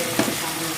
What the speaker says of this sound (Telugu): ఒకసారి మిక్స్ చేస్తాను.